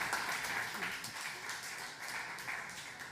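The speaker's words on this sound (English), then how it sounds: "Please, a round of applause for our guests." An audience at a startup summit stage panel applauds its guests, a steady, moderately distant round of clapping that holds evenly throughout, with faint voices beneath.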